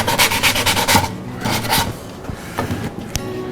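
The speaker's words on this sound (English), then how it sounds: "I'm going to hit those edges real quick with just a light sanding" Brisk rasping strokes of sandpaper on plywood edges, several quick rubs in a row, then a pause and a few lighter scrapes and taps.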